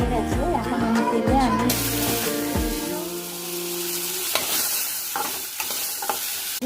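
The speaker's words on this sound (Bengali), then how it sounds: "এগুলো ভাজা হয়ে গেলে এই আলুগুলোকেও আমরা তুলে নেব।" Potatoes fry in oil in a pan while cooking a pabda fish curry, giving a steady broadband sizzle with some stirring clatter; tonal music plays over the first three seconds, then the frying hiss continues alone.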